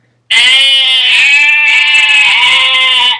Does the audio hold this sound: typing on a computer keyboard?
no